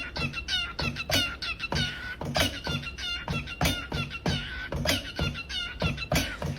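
A chicken clucks repeatedly in a steady, rhythmic series of sharp, close calls, loud and continuous from start to finish.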